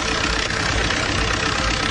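A car engine idles steadily after a bottle of concentrated anti-wear additive has been poured into the oil filler, a close, continuous low rumble with even mechanical clatter and no pauses.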